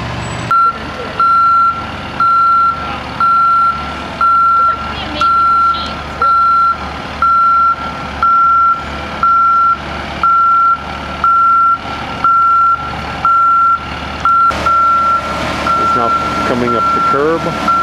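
A truck at a bulkhead work site backs up with its reverse alarm beeping steadily and loudly about once a second over a rumbling idling engine, while a person talks throughout.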